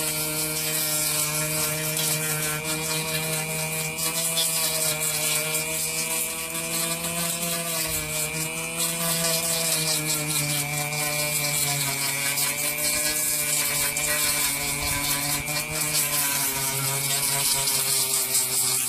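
A Dremel rotary tool grinds steadily against a fabric clothing patch, a continuous high-pitched whine with a rough abrasive buzz that holds at close range without a break.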